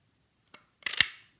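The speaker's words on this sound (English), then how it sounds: "If I was to punch the whole image out here," A paper punch cuts out a card image with a small click followed by a short crisp crunch and snap, close and clear with no talking.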